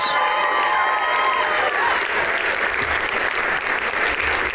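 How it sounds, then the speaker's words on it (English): Sustained applause from an audience at an awards ceremony, a dense, steady wash of clapping that carries on loudly throughout without a break. "Can we please give another round of applause for these true educators?"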